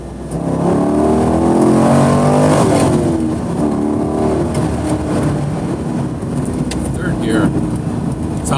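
A sports car, either a C5 Corvette Z06 or a Honda S2000, accelerating hard in second gear, its engine note climbing in a loud, close, continuous roar with rising tones, and a voice talking over it.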